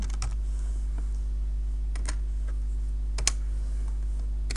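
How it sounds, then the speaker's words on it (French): Keys pressed on a computer keyboard during work on a ventilation-zoning diagram, a few sharp isolated clicks spread over a steady low electrical hum, close and moderately quiet with no talking. "on appuie sur Échappe pour sortir"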